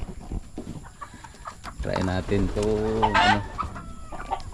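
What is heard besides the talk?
white layer chickens clucking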